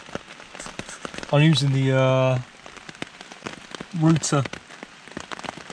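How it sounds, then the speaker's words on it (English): Rain patters steadily on a tent during a wild camp at Wittenham Clumps in a thunderstorm, a constant close crackle beneath someone talking with rising and falling tones. "As you can hear, it's still raining outside, there's still thunder."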